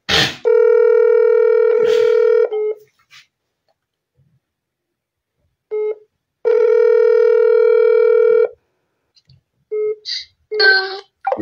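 A telephone rings twice, each long electronic ring lasting about two seconds, loud and close, followed by brief handling clicks and short noises as it is answered.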